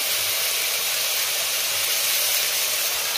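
Chili paste sizzles in hot oil on a raised flame, a loud, steady hiss of frying that holds evenly from start to end with no talk.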